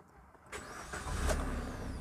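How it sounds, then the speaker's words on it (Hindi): A car engine cranks and catches with the air conditioning switched off, then settles into a steady, close idle hum. "ये मैंने गाड़ी स्टार्ट कर दी बिल्कुल।"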